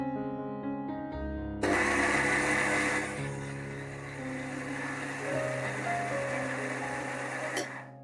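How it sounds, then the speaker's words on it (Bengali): A mixer grinder whirs as it grinds taro (kachu) without added water, a steady motor hum that kicks in suddenly and then settles into a slightly shifting drone, over a faint tonal background. "এটা আপনারা একটু মিক্সিতে ঘুরিয়ে নেবেন।"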